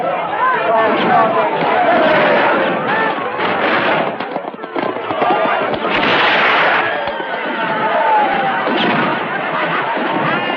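Gunfire in a western film cracks out in sharp bursts, one heavy blast standing out midway, mixed with crowd chatter and voices talking throughout.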